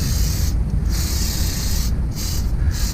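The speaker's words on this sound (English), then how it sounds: "I just use some spray adhesive and just spray the bottom on there." Spray adhesive from an aerosol can hissing onto insulation beneath an RV fresh water tank, close and steady, with two quick breaks in the spray.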